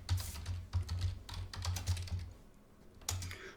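Rapid typing on a computer keyboard while entering a map name in ArcGIS Online, a dense run of close, crisp key clicks that thins out briefly near the end before a final burst.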